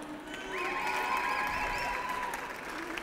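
An audience applauds to welcome a speaker onto the stage at an architecture graduates' 25th anniversary ceremony, with sustained, dense clapping swelling after a brief start and mixed with light crowd noise.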